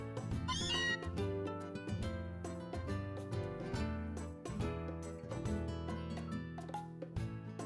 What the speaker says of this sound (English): This Meowth will not shut up.